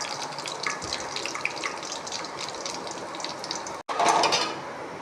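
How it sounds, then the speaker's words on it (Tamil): Vadagam and fenugreek fry in hot oil with a steady bubbling crackle full of small pops. The sound drops out briefly near the end and then returns louder, with no speech over it. "வடகம் நல்லா பொரிஞ்சிட்ருக்கு"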